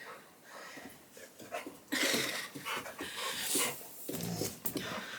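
A dog pants heavily and rhythmically close by, quick breathy huffs that carry on throughout.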